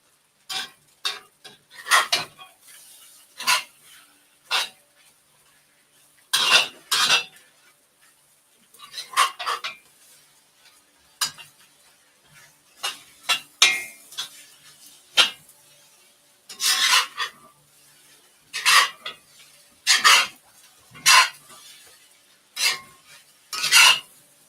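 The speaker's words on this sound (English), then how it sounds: "Probably shouldn't have stirred the rice" Eggs and rice stirred in a pan for fried rice, a run of scraping, rasping utensil strokes in uneven bursts with short pauses between, close and fairly loud, no talk.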